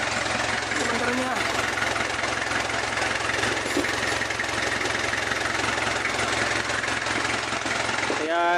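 A Kia Bongo engine idling steadily after its starter motor was cleaned, a continuous close mechanical rumble with a faint knocking rhythm, running alone for several seconds.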